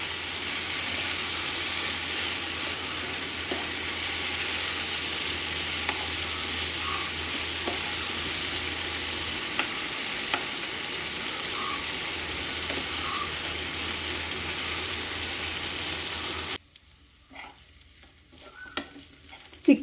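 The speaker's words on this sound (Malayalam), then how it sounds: "ഇടയ്ക്ക് ഒന്ന് ഇളക്കി കൊടുക്കാം." Butter chicken sizzles and fries in a pan, a loud, steady crackle as it is stirred now and then, until the frying noise suddenly cuts out near the end and leaves a few faint clinks.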